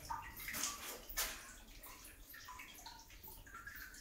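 Water of the Patala Ganga stream inside Belum Caves trickles and splashes faintly, with soft gurgles and drips echoing in the cave, quiet and intermittent.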